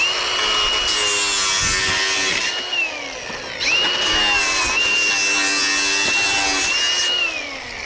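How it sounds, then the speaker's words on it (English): An angle grinder cuts through pipe with a loud, high whining screech in two long passes, the pitch sagging and dropping out briefly between cuts. "Tell you what, this angle grinder, everyone should own one."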